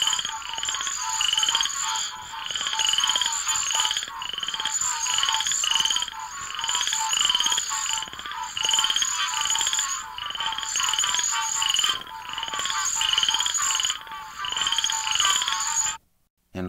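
Florida chorus frogs give rapid, raspy trilled calls in a dense repeating chorus with other frogs, loud and continuous against a low night background.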